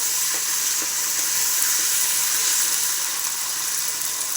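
Ginger garlic paste for biryani sizzles and fries steadily in a hot pan as it is stirred, a loud, continuous crackling hiss with no pauses.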